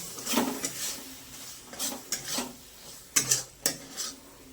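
A spatula scrapes and stirs masala with green peas in a pan, irregular rasping strokes with occasional metallic knocks against the pan, close and fairly quiet, no voices.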